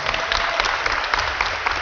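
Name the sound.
audience applause for sponsors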